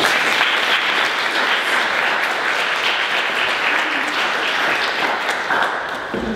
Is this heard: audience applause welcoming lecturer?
yes